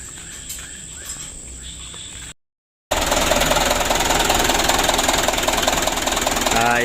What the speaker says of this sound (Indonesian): kita panas dulu mesinnya, kita lanjutkan besok pagi